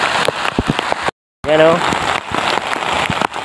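Rain falls steadily on surfaces close by in a rural spot with a flooded river, a constant patter of drops broken briefly by a short silence, with a voice speaking over it.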